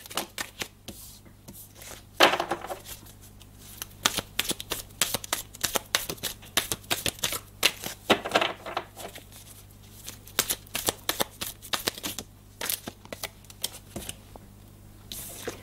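A deck of cards is shuffled by hand for a spiritual card reading, with close, repeated riffling and flicking bursts that run steadily throughout.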